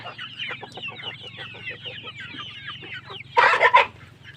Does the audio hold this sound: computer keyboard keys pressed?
no